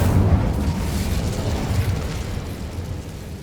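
An Incendio fire spell going off in Hogwarts Legacy, a loud, close burst with a roaring whoosh that rolls on and slowly fades over a few seconds, with no voices.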